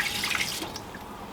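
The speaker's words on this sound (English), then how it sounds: "We're going to add the 250 ml of water." About 250 ml of water is poured into a Ninja Foodi multicooker pot fitted with its air crisp basket, making a short, bright splashing trickle with no talk.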